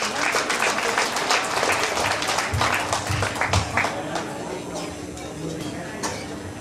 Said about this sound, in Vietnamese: Xin quý vị một tràng pháo tay cho một người trẻ,